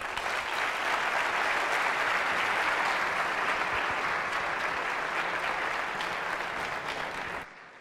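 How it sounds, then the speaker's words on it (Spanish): Loud, dense applause from a conference audience after a security talk on certificate pinning, sustained clapping from many people at an even level that cuts off abruptly near the end. "pues un aplauso."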